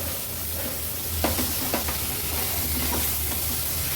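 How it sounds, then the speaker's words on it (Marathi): Finely chopped tomatoes sauté in a pan for a Maharashtrian Agri-Koli style veg dish, giving a steady close sizzle and hiss broken by a few scrapes of stirring. "टोमॅटो पण छान परतून घेते।"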